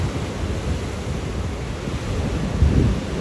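Ocean surf at Bondi Beach in Sydney, a continuous low rushing roar with a swell near the end, mixed with wind buffeting the microphone.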